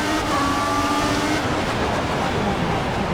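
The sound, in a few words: race cars at the race start in a Formula 1 video game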